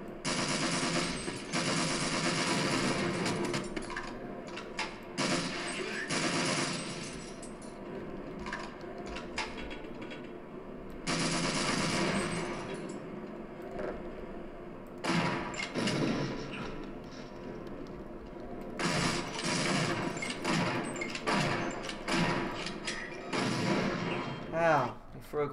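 Bursts of automatic gunfire from a weapon in the Half-Life shooter, rapid rattling volleys that start and stop in several long runs, loud and close, with game sounds between bursts.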